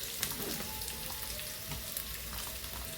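Frying in a pan for a Kerala green gram coconut milk curry produces a dense, continuous sizzle with faint crackles, steady and close throughout, no voices.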